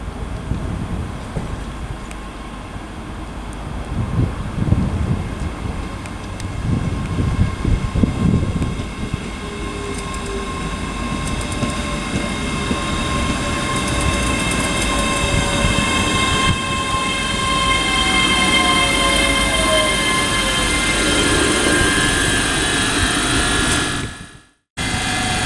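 A Class 385 electric train, unit 385040, rolls into Dunblane station with a steady rumble and rising tonal whine, then brakes with faint wheel squeal as it slows, close and loud, without talk.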